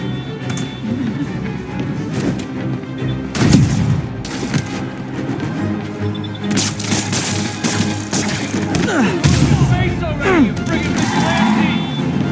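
Gunfire erupts in a Spider-Man fight as criminals robbing a safe shoot at the hero: loud bursts and rapid volleys repeat through the scene, mixed with crashes, impacts and heavy action noise.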